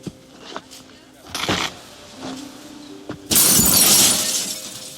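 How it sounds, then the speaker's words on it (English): A television smashed in a video game scene, with a sudden loud burst of shattering glass and crashing debris after a few scattered thumps and quieter clatter. "He smashes his TV."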